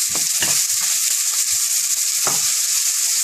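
Chopped onions sautéing in a pan for a seabass and langoustine green curry, a steady bright sizzle with a few soft stirring scrapes and knocks, close and continuous with no talking.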